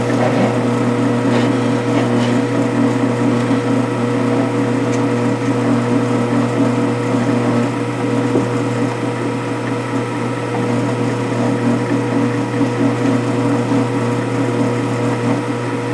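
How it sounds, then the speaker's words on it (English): A steady mechanical drone with a constant hum and grinding whir runs unbroken throughout as a drill bores pilot holes in cast iron, fairly loud and close. "Cast iron. I like drilling cast."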